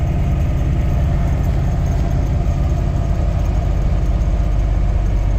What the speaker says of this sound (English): she's idling nicer than that stock ECU would let it do